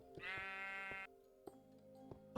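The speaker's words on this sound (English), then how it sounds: "Why is there a sheep?" A sheep in Minecraft Alpha 1.0.5_01 gives one close, clear bleat lasting about a second, followed by a few soft clicks and taps in otherwise quiet game audio.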